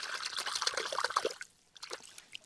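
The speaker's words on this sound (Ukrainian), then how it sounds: "Так, кашу в воду." Porridge bait is poured into lake water while fishing, a soft close trickle and splash that stops abruptly, followed by a few faint drips in a quiet outdoor setting.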